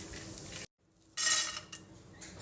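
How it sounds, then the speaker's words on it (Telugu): Pumpkin and melon seeds frying lightly in a little ghee in a pan, with clinking stirring and a soft sizzle, a brief silent gap, then a brighter burst of frying and scraping. "ఫస్ట్ నేను సీడ్స్ ఫ్రై చేసేసుకుంటున్నాను లైట్గా"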